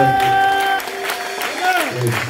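A church congregation claps together in a short burst, with a voice and sustained musical tones carrying over the applause.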